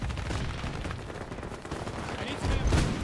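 Rapid automatic gunfire in the shooter game Battlefield 2042 crackles in dense bursts throughout, loudest near the end, with faint voices behind it.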